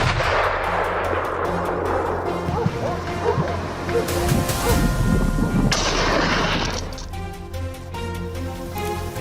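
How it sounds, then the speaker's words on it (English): Gunfire during a wild boar hunt, repeated sharp shots over a busy, noisy outdoor background, with dogs barking and voices mixed in. "We chased and shot down a few more wild boars."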